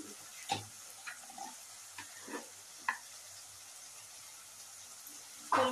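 Eggplant fries quietly in a pan, giving off a faint steady sizzle with a few soft stirring scrapes and clinks, the loudest at the very end.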